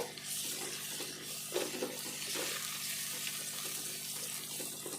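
Onions with ginger garlic paste frying in a pan for a traditional fish curry, giving a steady hissing sizzle with occasional stirring scrapes, close by.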